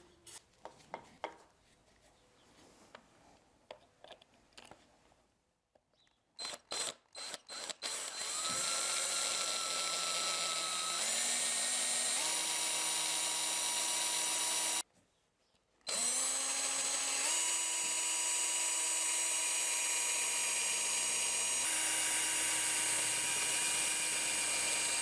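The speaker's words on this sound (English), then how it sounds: "I've got the small hole drilled." Drill boring a small hole into a stone wall of an old Italian house: a few scraping starts, then a long steady high whine that cuts out briefly and resumes, close and loud.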